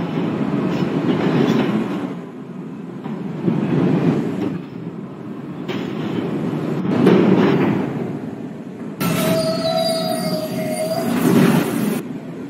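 A Manhattan-bound F Express subway train at 21st Street–Queensbridge station rumbles loudly through the tunnel in rolling surges, with squealing wheels and high tonal whines near the end.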